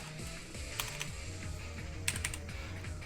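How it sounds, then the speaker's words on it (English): Quick computer keyboard typing while entering a Pokémon ability name during a Pokémon X & Y Wi-Fi battle, a steady run of close, light key clicks with a couple of sharper taps, no talking. "I'm typing in Regenerator."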